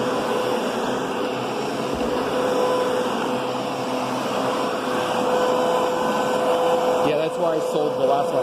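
A Panasonic-built Kenmore Progressive vacuum cleaner runs indoors with a steady motor whine at moderate level, with some bumping and shifting near the end.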